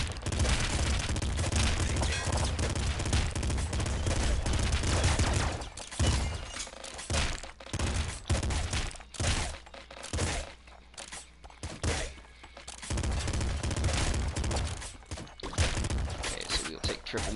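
Rapid bursts of triple machine gun fire in Nuclear Throne, dense crackling volleys that cut in and out with short gaps, loud and close amid chaotic game noise, with a voice talking at times.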